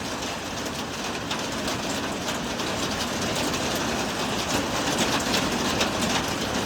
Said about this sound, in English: Look at all the hail.